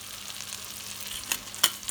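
Onions frying in a pan for a Chinese chicken curry, a low steady sizzle broken by two sharp clicks or taps near the end, close and unaccompanied by talk.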